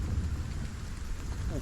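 Steady rain in the survival game Stranded: Alien Dawn, a constant wash of patter sustained at even loudness throughout, with a brief faint voice near the end.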